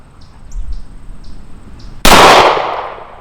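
A single loud gunshot from a CZ A01-LD Custom Shop pistol on an outdoor range, a sharp burst that rings off steel plates and decays over about a second, following several faint metallic clinks.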